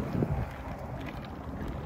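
Wind buffeting a microphone outdoors on a walk, a soft, broad whooshing rumble with a stronger gust at the start, fairly quiet and with no talking.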